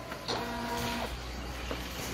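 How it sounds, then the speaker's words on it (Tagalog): A Brother DCP-T720DW inkjet copier-scanner printer whirs and hums steadily while scanning and moving paper, with a few soft clicks and short motor tones, close up and without talk. "So gumagalaw na yung printer."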